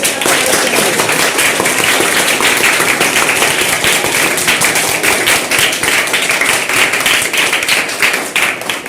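Loud, sustained clapping from a school gathering honouring the newly chosen student prime minister, dense overlapping hand claps running steadily throughout with no pause.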